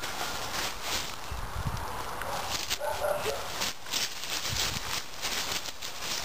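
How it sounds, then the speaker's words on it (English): A dog barks several times in a yard, fairly faint and somewhat distant, among footsteps and outdoor background noise. "do you hear the dog?"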